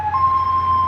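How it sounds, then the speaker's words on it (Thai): Ambulance siren wailing on a road near a strawberry farm, a loud, steady, sustained electronic tone heard up close without speech. "ก็จะมีเสียงหวอ นะ"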